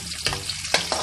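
Garlic hitting hot cooking oil in a pan for Bicol-style pork adobo, a steady close sizzle with a few louder crackling bursts as it is stirred, no voices.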